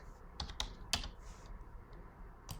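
Computer keyboard being typed on during node-compositing software work, a few scattered keypresses and shortcut taps, close and fairly quiet with pauses between strokes.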